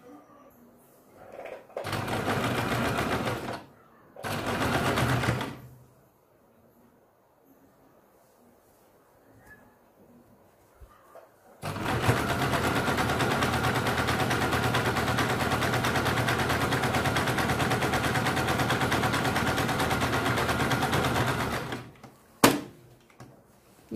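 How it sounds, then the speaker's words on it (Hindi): Sewing machine running a straight seam on a blouse: two short stitching bursts, a quiet pause with faint handling, then a long steady run of close, rhythmic machine whirring that stops abruptly with a click. "तब देखिए यहाँ पे हम इस तरह से इसको ऊपर सीधी सिलाई लगाते हैं।"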